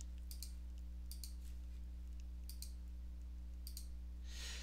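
Sharp, faint computer mouse clicks come in small pairs spread across a few seconds as channels are selected, over a steady electrical hum.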